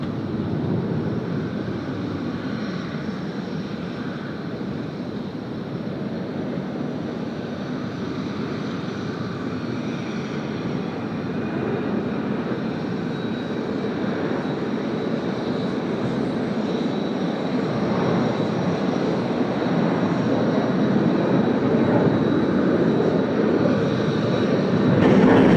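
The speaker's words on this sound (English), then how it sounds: "What fantastic sound coming out of the A330 there. The beautiful GE engines." Qantas Airbus A330 with GE engines taking off at Sydney Airport, a steady broad jet roar heard from a distance that swells gradually louder over the run, with no talk.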